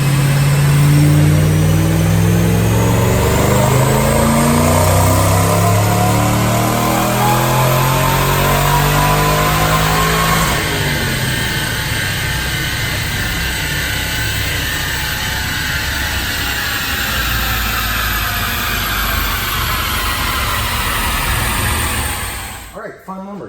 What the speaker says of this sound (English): Let's make a dyno pull.